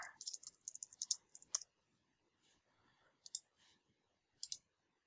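Mouse clicks while working in the Ivanti Automation console, a quick run of sharp clicks followed by a few sparse, isolated clicks, close and quiet with no talking.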